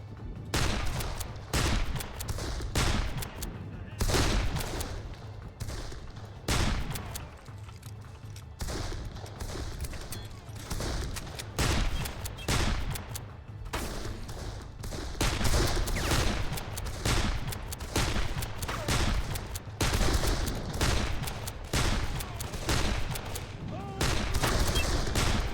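Heavy sustained gunfire rattles through a firefight in the video game Darkest of Days, dense bursts of rapid shots repeating loudly across the whole stretch with only brief lulls.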